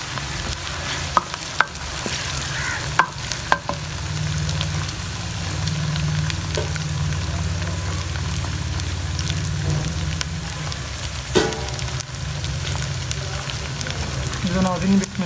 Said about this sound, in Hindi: नाज़रीन, अदरक और लहसुन का पेस्ट ऐड करेंगे 1 टेबल स्पून और अच्छी तरह से इसकी भी भुनाई करेंगे।